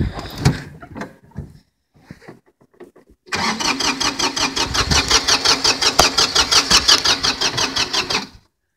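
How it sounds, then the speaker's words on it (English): Diesel tractor engine cranked cold without glow plugs, a few clunks and knocks, then a long loud starter grinding in rapid regular pulses for about five seconds before stopping without catching. "This tractor here should start without glow plugs."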